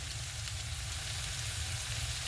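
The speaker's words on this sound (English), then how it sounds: "I'm just gonna saute these together" Vegetables and mushrooms sauté in a pan for a vegan pot pie filling, giving a steady, even sizzle and crackle with no break and no voices.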